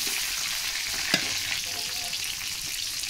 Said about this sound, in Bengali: আমি সেই দু একটা আর কি উল্টে পাল্টে ভেজে নিচ্ছি